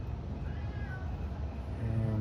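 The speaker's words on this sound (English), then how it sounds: "you can hear my cat" A house cat gives a soft, drawn-out meow, fairly faint against a steady background hum indoors.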